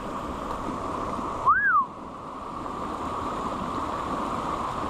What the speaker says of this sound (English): look at this gully washer.